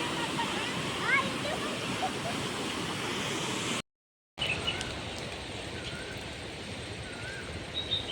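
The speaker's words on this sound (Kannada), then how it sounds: "ನೀರಿನ ಸೌಂಡ್ ಹೆಂಗ್ ಕೇಳಿಸ್ತದೆ ನೋಡಿ" Rushing river water at an outdoor spot near Shivamogga, a steady broadband roar throughout with a short gap of silence midway and faint bird calls above it.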